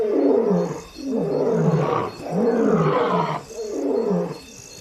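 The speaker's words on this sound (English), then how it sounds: "the males patrol their territory. Their roars travel further after dark when the air is cooler." Male lions near the Luangwa river roar at night in a series of deep, drawn-out calls, about four swelling roars one after another. They sound loud and fairly close, and the air stays open and quiet between the calls.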